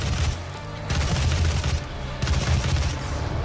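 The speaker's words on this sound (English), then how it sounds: "Heavy assault rifle." Heavy assault rifle fire in Doom 2016: loud, close bursts of rapid automatic shots in two or three rattling volleys, alone with no talking.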